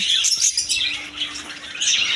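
Constant high-pitched twittering and squawking comes from many colourful caged birds, lovebirds among them, packed together in a bird shop, near and unbroken.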